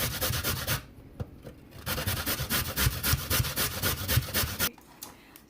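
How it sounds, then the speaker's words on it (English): Carrots rubbed against a Korean grater, a fast rhythmic series of rasping scrapes close by, pausing twice between bursts of strokes. "And for beets, I'm going to use my Korean grater."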